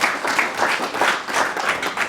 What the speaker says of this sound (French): Est-ce qu'on peut applaudir Madame